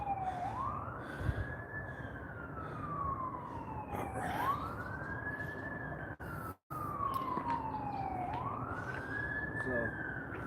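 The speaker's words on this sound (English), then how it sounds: "Hear that siren in the distance." A siren wails in long rising and falling sweeps, fairly distant, over steady traffic rumble, repeating about every three seconds.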